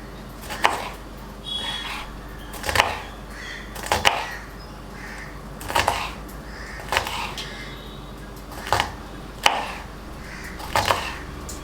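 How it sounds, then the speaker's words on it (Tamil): A knife slices green beans thinly on a board for Tamil-style egg fried rice, giving about nine sharp, close chops spaced roughly a second apart against a quiet background. "ஸோ இப்போ பீன்ஸையும் நல்லா மெலிசாக கட் பண்ணுறோம்."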